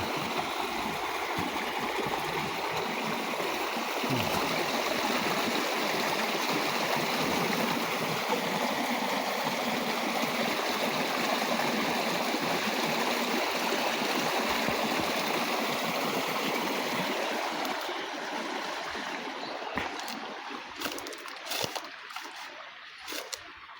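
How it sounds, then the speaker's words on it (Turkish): Water gushes steadily from an Einhell 18 V cordless submersible pump, a loud continuous splashing stream close by that tapers off into scattered drips and splashes near the end. "Taktım pompayı açtım. Bastı şu an. Su geliyor."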